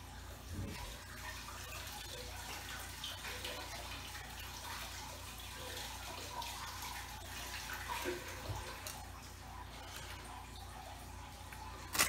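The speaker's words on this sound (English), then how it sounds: "Wash my hands." Hands rinsed under a running kitchen tap while preparing stuffed catfish, a steady soft wash of water with faint splashes, continuous and fairly quiet throughout.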